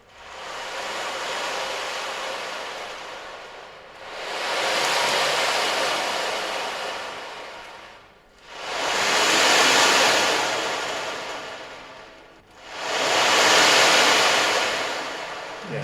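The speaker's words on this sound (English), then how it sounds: "what creates the sort of wave sound is some little steel kind of ball bearings, if you like, inside it, and with them cascading over the skin underneath" Steel ball bearings cascade over the skin of an ocean drum, giving four long, loud swells of hissing surf-like wash, each rising and fading, with no talk.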